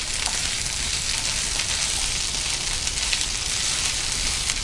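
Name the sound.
ginger garlic paste sautéing with onions in a pan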